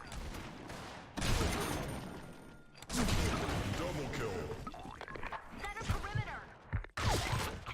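Bursts of rapid gunfire in the online shooter Blackshot, loud and dense, broken by short pauses, with a player talking over the shooting.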